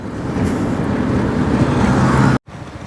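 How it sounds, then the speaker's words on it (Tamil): Morning road traffic in Kuala Lumpur heard from a moving vehicle: a steady, dense rumble with wind noise buffeting the microphone, then a brief sudden cutout near the end. "காலையிலே பாருங்க காடி டிராஃபிக் கூட."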